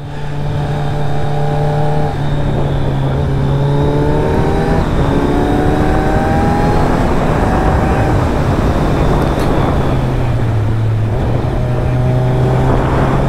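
A Kawasaki Z900 motorcycle on a mountain road in Zanskar, reported as losing power, accelerates hard through the gears, its engine droning loud and continuous with repeated pitch climbs at each shift, heard up close amid wind noise.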